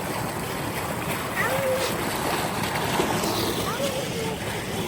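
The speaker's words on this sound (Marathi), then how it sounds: "असा वॉटरफॉल आहे" Waterfall beside a stream near a small bridge, a continuous full rushing roar of falling water, steady and fairly close, with a voice speaking faintly over it.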